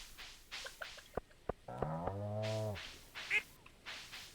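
Cartoonish duck quacks from the farming game Stardew Valley, a short run of harmonic honking calls in the middle, set amid soft game clicks and ambient effects.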